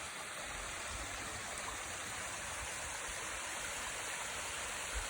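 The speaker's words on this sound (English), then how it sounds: "Had quite a bit of rain though, and so everything is got some water running through it." Rainwater runs through a spring garden like a small stream, a steady broadband rushing wash of flowing water that holds even and unbroken throughout with no voices.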